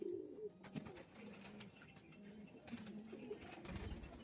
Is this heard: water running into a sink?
no